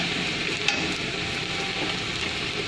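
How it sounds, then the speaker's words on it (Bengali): Onions frying in a pan until browned for chicken kosha give a steady, close, dense sizzle that holds without a break, with faint stirring scrapes mixed in. "এখানে আমি চিকেন কষার জন্য পেঁয়াজ লাল করে নিচ্ছি"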